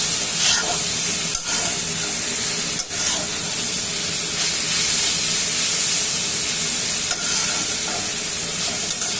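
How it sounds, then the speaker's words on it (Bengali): Bitter gourd (karela) frying in a pan, a steady loud sizzle and hiss lasting the whole stretch, broken by a few brief clatters of stirring. "এখানে করলা ভাজিটাও হচ্ছে।"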